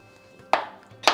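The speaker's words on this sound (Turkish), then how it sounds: "Mantarlarımızı da doğrayalım." Two sharp knife chops through mushrooms on a cutting board, loud and close, spaced about half a second apart with quiet kitchen room tone between them.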